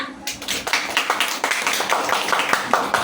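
A group of children claps in a quick, steady rhythm of sharp, close hand claps lasting a few seconds.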